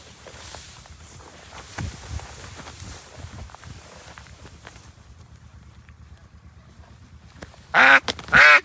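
Ducks quack in two loud, close bursts near the end. Before them come softer shuffling steps and scattered rustling at lower level.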